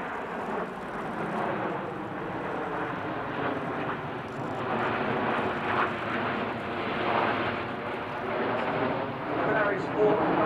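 Red Arrows RAF Hawk jets roar overhead while flying the Eagle roll at an air display, a loud, sustained jet rush that swells and lingers, with a commentator talking over it.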